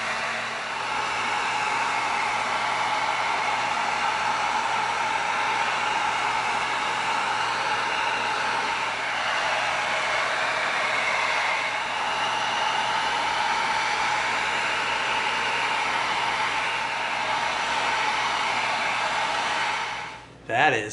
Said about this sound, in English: now we're gonna come in with some heat and we're gonna tighten this foam up